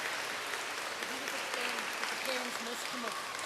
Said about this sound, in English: Give those children a good clap because that was just brilliant.